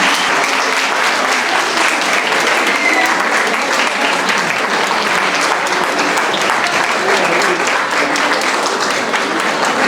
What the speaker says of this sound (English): Give me a warm round of applause, please.